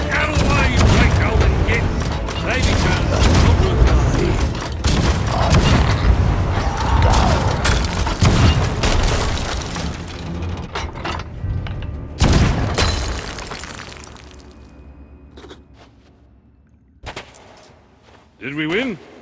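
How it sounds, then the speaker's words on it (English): Ship cannons firing in the Sea of Thieves pirate game, heavy booms and crashes over creaking timber and a dense battle din, with voices mixed in, fading toward quieter scattered impacts at the end. "Fire! Fire the cannons!"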